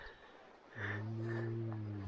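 Fallow deer bucks croak far off on a frosty morning during the rut: after a quiet start, a low, drawn-out guttural groan rises and holds for over a second, distant and fairly faint.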